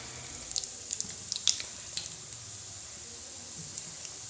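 Biscuits frying slowly in oil over a low flame, a soft, quiet sizzle with scattered tiny pops and crackles, steady and gentle throughout.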